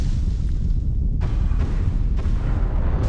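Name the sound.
rocket exploding in a video game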